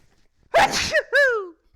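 A single sharp sneeze, close and loud, with a breathy wind-up followed by a squeaky, high-pitched tail.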